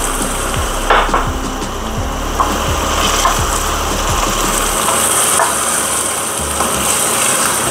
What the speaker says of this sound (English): In goes the chops.